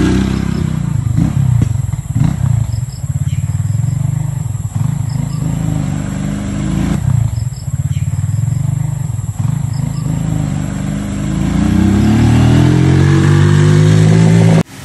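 A Rusi motorcycle engine revs loudly and steadily throughout, with repeated throttle blips and a rising rev near the end before it cuts off.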